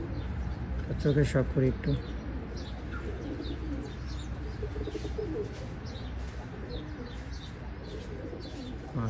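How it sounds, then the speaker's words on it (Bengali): Oman Teddy pigeons kept in pairs coo in a home loft, low rolling calls repeating near and far, with light chirps above and someone speaking briefly over them. "তো এই ছিল তার বাসার কবুতর"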